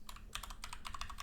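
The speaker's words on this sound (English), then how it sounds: "Let's try to type that again." Rapid, light keystrokes on a computer keyboard come in quick uneven bursts, close and fairly soft, with no talking.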